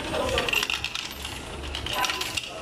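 Coins drop and jingle out of a cashierless self-checkout payment machine in a Madrid shop, with a cluster of metallic clinks early on and another later, close and fairly loud.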